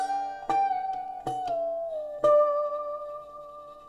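A slide guitar melody is played without thumb damping, so sustained notes glide and ring into each other, with a few plucked attacks and long overlapping tails, clear and alone.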